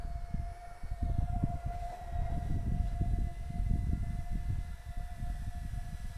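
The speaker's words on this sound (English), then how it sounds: "That's our little train, if you can hear it, our little train in the background that runs." A small train runs in the background with a steady low rumble and a sustained whining tone, continuous and moderately distant, no talking.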